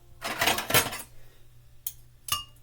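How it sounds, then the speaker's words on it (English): A knife scraping sticky peanut butter off a utensil, a dense metallic scrape lasting about a second, then two short clinks of metal. "Use the knife to scrape it off."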